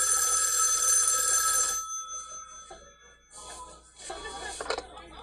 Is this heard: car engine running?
no